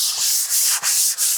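Hand rubbing and sanding across a prepared painting canvas to knock down the last high spots, three steady back-and-forth strokes of dry, hissy friction with brief pauses between, close and fairly loud.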